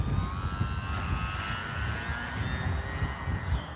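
An E-flite Sportix radio-controlled sport trainer plane flies overhead, its electric motor giving a steady, continuous whine with shifting pitch as it passes, heard alone over wind.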